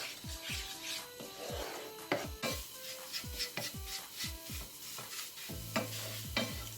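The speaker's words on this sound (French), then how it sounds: "écrasant pour que ça ne forme pas une omelette mais des miettes d'omelette. Tourner sans cesse, remuer sans cesse." Omelette stirred and crushed into crumbs in a frying pan for Cantonese fried rice, a gentle sizzle under repeated scraping and tapping of a utensil against the pan, close and fairly quiet.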